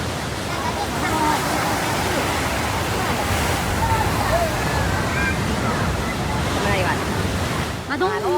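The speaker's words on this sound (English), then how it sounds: "Massive waves overwhelmed the harbor of Stazzo, Italy" Massive storm waves crash and surge through Stazzo harbor in Italy during Medicane Zorbas, a loud, unbroken roar of churning water with gusty wind noise and faint voices mixed in.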